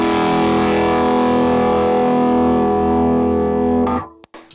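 Electric guitar sounds through a drive pedal that adds gain, one sustained chord ringing thick and steady for about four seconds before it is cut off, followed by a couple of brief clicks.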